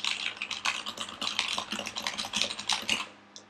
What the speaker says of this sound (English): if you want to hear how like clacky it is